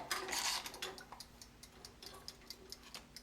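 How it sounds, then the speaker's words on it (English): Mechanical timer ticking steadily alone, faint and close, with a clatter of handling at the start before the regular soft clicks continue. "Yeah, I can hear it ticking."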